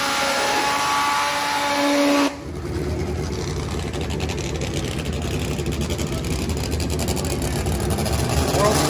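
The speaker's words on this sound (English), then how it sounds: "World's quickest turbo bike versus one of the quickest nitro bikes." Drag racing motorcycles, a turbo bike against a nitro bike, launch with a sudden loud engine roar that drowns out an earlier high whine and keeps building in a dense, raspy drone toward the end, with a voice talking over it.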